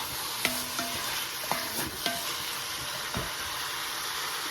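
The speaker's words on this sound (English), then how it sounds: "now we're going to add 1 onion to saute" Chopped onion sautés with hamburger meat for chili, sizzling steadily in the pan. A few sharp scrapes and taps from stirring break through the constant hiss.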